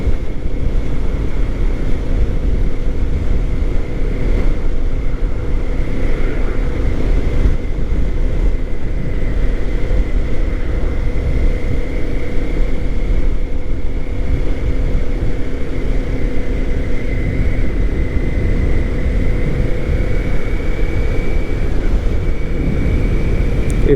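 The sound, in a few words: Kawasaki Ninja 400 motorcycle engine while riding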